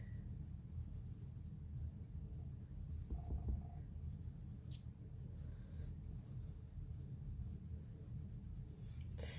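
Quiet rubbing and scratching of foil paper being worked by hand to bring up colour on a craft sheet, soft and close, with brief brushing strokes and no talk.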